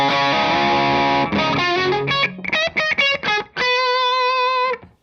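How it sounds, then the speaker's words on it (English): Electric guitar through an overdrive pedal into the amp's front end plays sustained chords, then choppy stabs, ending on a long ringing chord; loud and close with no voices. "So if we have a look at just an overdrive into the front end,"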